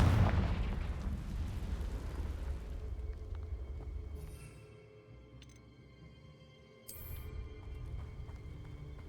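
Confringo spell blast in Hogwarts Legacy: a deep booming explosion opens loud and rolls away over several seconds into a low rumble, followed by faint game ambience and small tonal effects.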